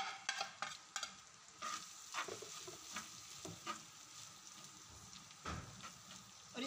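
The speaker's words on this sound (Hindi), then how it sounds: "चिकन हमारा भुन रहा है" Chicken keema frying on a tawa gives a faint sizzle under repeated stirring and scraping strokes, fairly quiet throughout with no speech.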